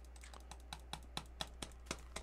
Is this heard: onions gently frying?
no